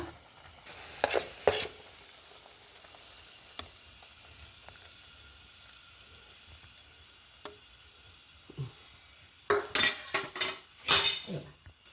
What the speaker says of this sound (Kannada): ಇದೀಗ ಬೌಲ್ ಟ್ರಾನ್ಸ್ಫರ್ ಮಾಡುವ